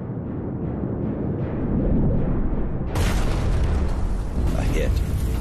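A torpedo strikes an oil-laden cargo ship at night: a sustained rumbling roar of the blast and burning fuel, loud and broad, swelling sharply at about three seconds into a harsher, brighter crackling roar with no voices.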